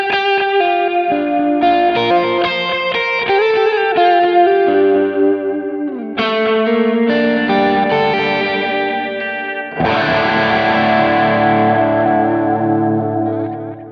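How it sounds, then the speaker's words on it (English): Electric guitar played through a DMM-style analog delay modeled on a Line 6 Helix, sustained chords and melodic lines ringing with repeating echoes and reverb tails, loud and continuous with two fresh strums at intervals, no talking. "Maybe the greatest delay pedal of all time."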